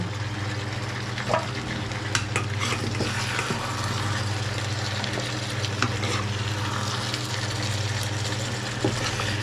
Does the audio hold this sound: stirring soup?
yes